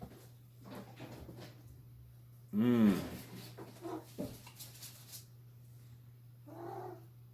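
A cat lets out a loud, wavering yowl, with a few faint rustles and bumps around it and a second shorter cry near the end, all over a steady low electrical hum.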